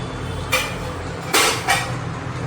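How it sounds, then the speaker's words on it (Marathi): A metal lid is set onto a pressure cooker holding a pot of crushed lemon pickle over a steaming rack, giving three sharp metallic clanks over a steady background hum. "हे मी आता झाकण ठेवलं."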